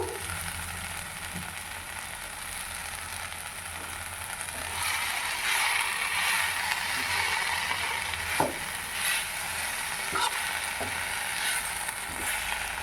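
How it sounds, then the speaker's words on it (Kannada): Washed mint leaves sautéing with soft cooked tomatoes in a pan, a steady close sizzle that swells midway, with occasional scraping stir clicks and faint clatter, no talking. "ಈಗ ನಾವು ಪುದೀನ ತೊಗೊಂಡು ಕ್ಲೀನ್ ಮಾಡ್ಕೊಂಡು ತೊಳೆದು ಇಟ್ಕೊಂಡಿದ್ವಲ್ಲ ಅದನ್ನು ಇದರಲ್ಲಿ ಹಾಕಿ ಚೆನ್ನಾಗಿ ಬಾಡಿಸ್ಕೋಬೇಕು"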